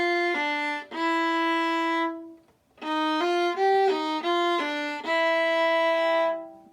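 A viola plays the single notes of the last line of a Giga, slow sustained bowed notes in a stepping melody with a short pause midway, close and clear.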